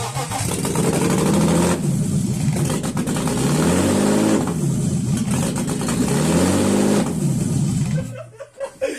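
A BMW car engine revs hard in repeated rising-and-falling surges, loud and close, with a few throttle pulls in a row before it drops off abruptly near the end.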